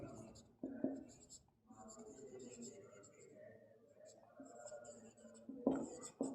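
A pen writes a short accounting journal entry narration on paper, with faint, soft scratching strokes up close beneath a person talking throughout.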